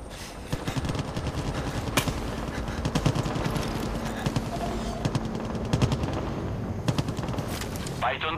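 Rapid bursts of heavy cannon fire in Far Cry 5 pound away almost continuously, loud and close, with explosions and battlefield noise layered underneath and faint Italian voices in the mix.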